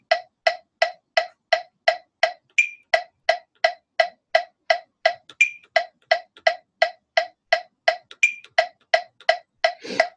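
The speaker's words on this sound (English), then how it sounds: "So here's what it sounds like when it's clicking the 8th notes." A metronome ticks steady eighth notes, a crisp, even stream of close clicks with a higher accented beep marking each bar.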